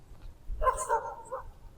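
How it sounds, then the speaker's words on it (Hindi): Dogs barking at night in a dark graveyard: a short burst of a few barks or yelps from a moderate distance, over a low rumbling background with no talk. "कुत्ते भौंक रहे हैं"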